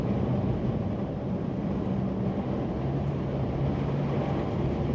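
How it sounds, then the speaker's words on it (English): A car engine drones steadily while driving a snowy highway at night and downshifting, with its pitch shifting partway through under constant road and wind noise. "Downshift a little bit more, another gear."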